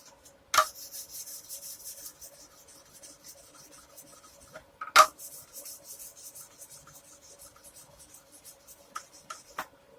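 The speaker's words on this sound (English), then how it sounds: "fret leveling bar with the finer some finer sandpaper on it" Guitar frets rubbed with a fret leveling bar wrapped in fine sandpaper, quiet scratchy scraping strokes close up, with a couple of sharper knocks between the passes.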